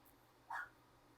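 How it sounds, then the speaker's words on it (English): A dog gives a single short bark, fairly faint and off in another room, against a quiet indoor background. "there goes my dog barking"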